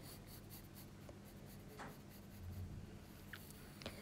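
Pencil sketching an insect wing on paper: a soft, continuous graphite scratching with light strokes, quiet and close, with no talking.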